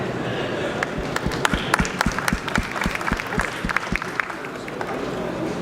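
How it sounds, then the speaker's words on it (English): A crowd at a financial inclusion panel event applauds as the panel host comes on stage. Scattered, distinct claps sound over a background of voices in the room, fairly near and moderately loud. "So let's have a warm round of applause for Fraser, and he'll introduce his panel."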